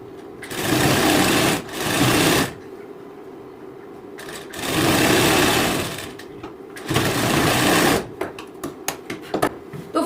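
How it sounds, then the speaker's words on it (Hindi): A sewing machine stitches a blouse sleeve seam in three sustained runs separated by pauses, loud and close, with a few light clicks of handling at the end. "और अब मैं इसकी सिलाई भी लगा के आपके लिए बता देती हूँ।"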